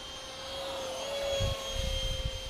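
A CustomRC Concorde RC model jet flies at low throttle, giving a steady, fairly faint whine with a thin high tone that holds throughout, plus a soft low rumble near the end.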